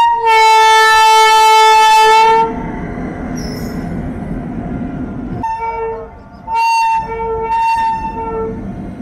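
A train at a level crossing blasts its loud horn for about two seconds, then rumbles past close by, the horn sounding again in two shorter blasts over the rolling wheels.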